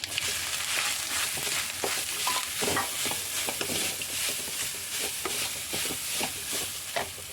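Whole spices such as cinnamon, cloves, cardamom, peppercorns, star anise and fennel sizzle steadily in hot oil in a pan for a Kerala-style curry, with light stirring scrapes over the continuous frying hiss.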